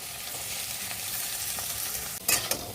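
Potatoes and banana flower fry in mustard oil with a steady, close sizzle, broken near the end by a couple of sharp scraping stirs.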